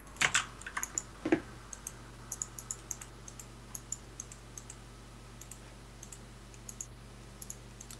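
Computer keyboard typing during an online Minecraft UHC game session: rapid, irregular key clicks in quick bursts with short pauses, fairly close and clear against a low steady hum, no voices.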